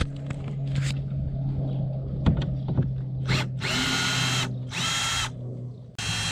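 A power drill backs screws out of a YakGadget kayak pod mount, with a few short whirring bursts separated by clicks and handling clatter, close by.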